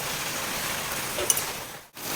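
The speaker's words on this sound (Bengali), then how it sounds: "প্রচণ্ড জোরে বৃষ্টি নেমেছে" Heavy rain pours down on a rainy day, a dense steady hiss of falling water that holds throughout, with a brief sharp patter near the middle and a short dip just before the end.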